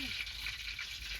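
Green chilies fry in hot oil at an outdoor garden bhajiya cookout, a loud continuous crackling sizzle close up, with faint voices in the background.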